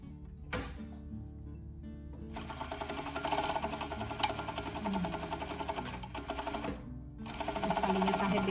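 A home sewing machine runs steadily, stitching the side seams of a child's fabric underwear, with a dense mechanical whir that pauses briefly twice before resuming close and fairly loud.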